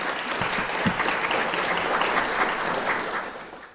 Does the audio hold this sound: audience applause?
yes